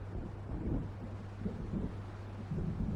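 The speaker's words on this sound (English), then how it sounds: "It seems there's a storm coming." Low rumbling thunder of a storm rolling in during Alan Wake Remastered, a steady deep roll with swells of louder rumble over wind and distant waves, no voices.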